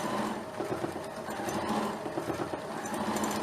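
A sewing machine runs steadily at close range, stitching a bag strap fastened with a half ring and backstitching it repeatedly, a continuous mechanical whir and rattle with slight speed changes and no talk.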